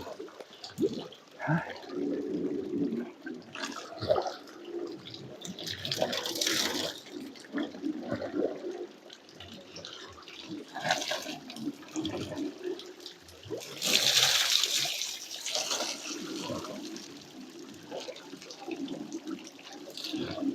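Buckets filling with water drawn from a small pond, giving splashing, gurgling bursts of moderate loudness that come and go, with quiet gaps in between and occasional talk.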